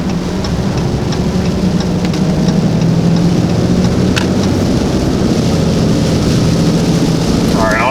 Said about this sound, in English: It sucks that it's raining.